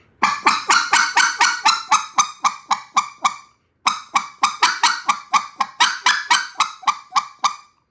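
A goose call sounds two close, loud runs of sharp, clean single honks in a fast, steady rhythm, with a brief pause between the runs.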